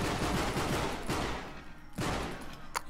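Gunfire in the Nazi Zombie Army Trilogy video game: a few loud, sharp shots spaced roughly a second apart, each a crack that briefly rises out of a steady background din.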